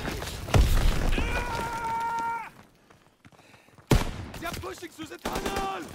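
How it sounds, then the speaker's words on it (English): Video game gunfire: rapid bursts of shots mixed with tonal electronic effects, a brief lull, then one sharp loud crack followed by more clattering fire. "This dumbass did not just shoot at me."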